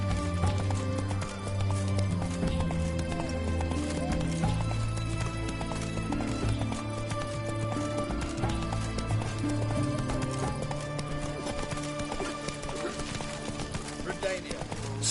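Hooves of Roach, a horse in The Witcher 3 video game, clip-clopping at a fast gallop in a steady rhythm over the whole stretch, mixed with game music and ambience.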